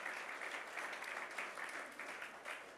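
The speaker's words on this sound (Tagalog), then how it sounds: "Sige, palakpakan mo naman si Lord." A congregation claps at a church service, a soft, distant patter of applause that holds steady through the moment without voices.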